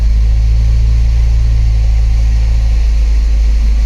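A 2008 Mazda Mazdaspeed3 with a manual gearbox and 2.3 l engine idles while warming up and shaking, a steady loud low rumble that holds without variation.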